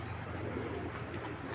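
Imported racing pigeons coo briefly and softly over a hissy background, a low murmuring call without talk.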